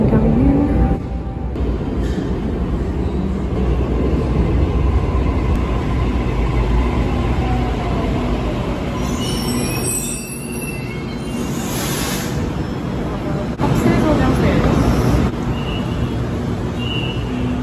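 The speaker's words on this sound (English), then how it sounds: "There's the train coming in." A train arrives at a Sydney station on a rainy day, its steady low rumble rolling in with wheels squealing faintly on the rails, loud and close throughout.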